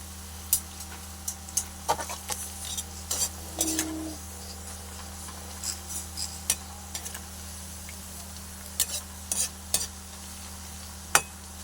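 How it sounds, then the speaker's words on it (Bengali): Onions frying in oil until browned for biryani. A soft, continuous sizzle runs underneath, with scattered spoon-stirring scrapes and taps in the pan, close by and without speech. "আমার পেঁয়াজটা প্রায় ভাজা হয়ে আসছে বাদামি বাদামি করে ভেজে নেবো"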